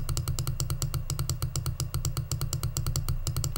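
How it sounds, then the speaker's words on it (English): A computer mouse is clicked rapidly and steadily, a fast, even run of sharp clicks over a low background hum, close and with no talk. "So if I sit here and click the mouse"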